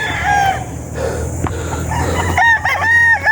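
A winning spangle hatch gamecock stag crows loudly and close by, with a long drawn-out call and then a second strong crow near the end, along with clucking and other roosters in the background.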